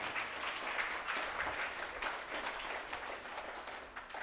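Applause from a church congregation during a feast-day novena Mass at the shrine of St. Ignatius in Sathampatti, steady dense clapping that holds throughout at moderate level with no break.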